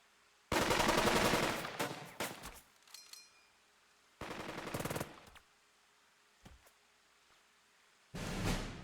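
Gunfire in the WWII tactics video game Burden of Command: loud bursts of machine-gun fire and volleys in three separated clusters, with a short crack between them, no talk over it.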